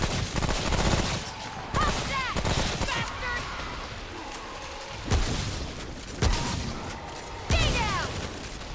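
Player's gun firing in the game Remnant: From the Ashes, a few separate loud shots with ringing tails spread across the stretch, mixed with other game sounds.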